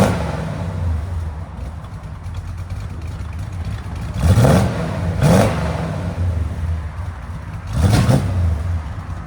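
A 1966 Chevy C10 V8 with Thrush mufflers idles with a low rumble close by, then is revved in three distinct bursts, two close together and one a few seconds later.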